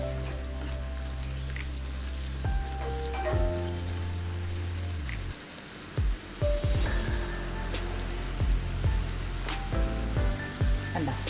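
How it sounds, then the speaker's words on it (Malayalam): Papaya curry bubbles and sizzles steadily in a pot, gently simmering, with scattered pops and light clinks from utensils; no speech. "ഒന്ന് പതുക്കെ തിളച്ചോട്ടെ"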